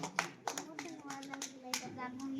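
Audience clapping at a primary school annual function, a few sharp, scattered claps over a steady hum and faint background voices.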